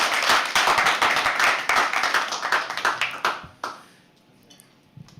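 Audience at a live poetry open mic at The Habitat claps in a lively round, with distinct hand claps that thin out and fade to near quiet, with a few stray claps at the end.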